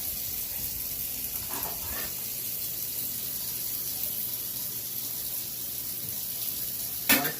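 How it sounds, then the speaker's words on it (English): Water runs steadily from a kitchen tap while a pizza is being made, a constant soft hiss with a couple of faint clinks and a brief louder knock near the end. "Why is the water still running?"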